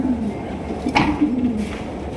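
Pigeons coo softly at a large pigeon farm, a low throaty rolling call repeating close by over a murmuring background.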